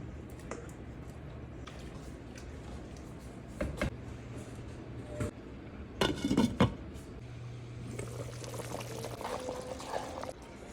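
Consommé poured into a pot of chicken and sausage gumbo, a soft liquid splash and trickle with a few clinks of a pot or can against a steady low kitchen hum.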